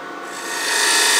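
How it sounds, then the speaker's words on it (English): Wood on a lathe being scored with a V-groove: a steady close rasping scrape that swells in loudness over about a second, with no talk. "I'm going to mark it with a V-groove first."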